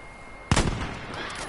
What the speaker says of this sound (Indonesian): Tembakan dari mana?